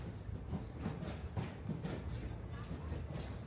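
A low, steady rumble of the Chakradharpur passenger train, a short train of few compartments, at a small station in Purulia, with faint rolling clatter and some background voices.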